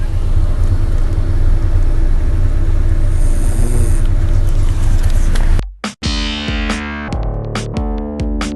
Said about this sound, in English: is our first time being in Diwali traffic